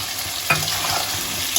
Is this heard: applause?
no